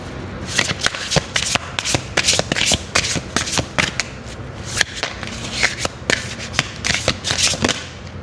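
Oracle cards are shuffled by hand at close range, giving rapid repeated riffling slaps and soft papery rubbing in an irregular rhythm.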